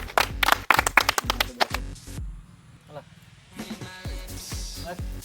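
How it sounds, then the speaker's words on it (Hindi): A crowd claps in sharp, uneven bursts to honour the next winner at a prize-giving for a spoon game, fading briefly before a second round of clapping. Voices talk between and under the applause. "ताली जोरदार"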